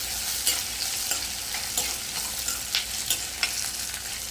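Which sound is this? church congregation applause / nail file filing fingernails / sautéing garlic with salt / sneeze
sautéing garlic with salt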